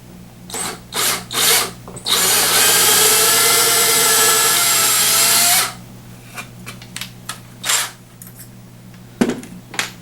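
A power drill with a 1/8-inch bit boring pilot holes for a shelf repair, one sustained loud whine of about three seconds between short bursts of handling noise and clatter nearby.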